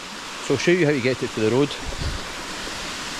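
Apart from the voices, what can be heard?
hidden waterfall near the road in the snow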